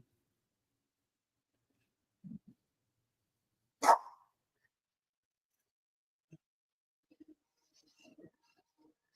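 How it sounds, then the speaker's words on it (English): Dogs bark outdoors while landscapers work nearby, giving a few short, sparse barks, one louder burst among quiet, distant yips and gaps of near silence. "The dogs are barking"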